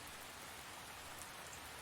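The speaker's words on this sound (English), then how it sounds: "The raindrops on the window pane seemed to create a calming rhythm that echoed throughout the cabin" Rain pattering steadily on a cabin window pane, a dense, even hiss of drops with no voices, heard close and continuous throughout.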